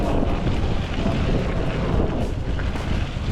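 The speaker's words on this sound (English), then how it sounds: "So windy." Strong gusting wind roars across the microphone during a mountain bike ride, a loud continuous buffeting rumble that holds steady throughout with no voices.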